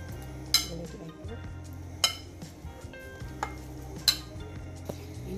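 Taro mixture with eggs stirred in a bowl, a utensil scraping and knocking against the bowl in an uneven rhythm, with a few sharper clinks standing out over a low background hum.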